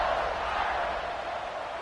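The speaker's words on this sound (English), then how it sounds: "this crowd is buzzing after that last score" Stadium crowd buzzing in the College Football 26 video game, a dense steady roar of many voices that stays broad and constant throughout.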